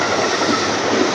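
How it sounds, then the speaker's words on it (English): A train rolls past in Tokyo as a steady, loud, continuous rumble with clattering wheels on the rails, filling the whole moment without any talk. "Another train."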